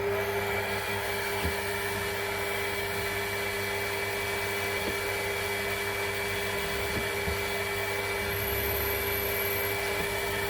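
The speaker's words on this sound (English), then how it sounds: "And in with the 5mm drill." A 5 mm drill bit spinning into metal on a mini mill, a steady high-pitched motor whine with constant tonal hum and faint scraping, running alone for about ten seconds.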